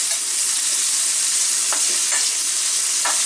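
Bacon sizzling steadily in a frying pan for a cheesy meatloaf, a dense close hiss with a few soft scraping stirs, no voices.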